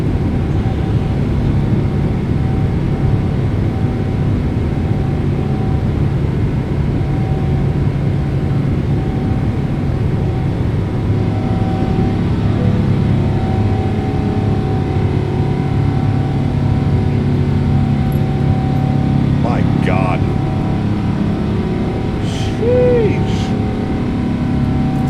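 Boeing 777-200ER jet engines at climb power in a flight simulator cockpit, a steady loud broadband roar with a deep rumble that holds throughout, a few faint tones on top and brief talk near the end.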